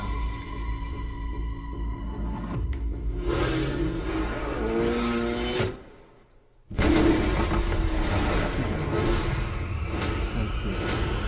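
A van engine revs hard in a Teenage Mutant Ninja Turtles 2 movie trailer, loud and close over a dense music and effects mix with a crash of glass, a brief near-silent drop, then a surging return.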